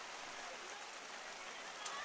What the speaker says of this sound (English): So the rain continues to